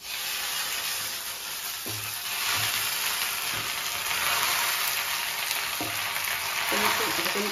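Gongura leaves fry in a kadai with a steady loud sizzle, broken by occasional scrapes and knocks of a spatula as they are stirred.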